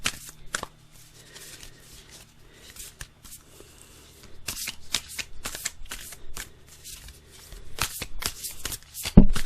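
A deck of playing cards is shuffled by hand in a quiet room, with repeated riffle bursts and snaps coming in uneven clusters, close and fairly loud, followed by a sharper final tap.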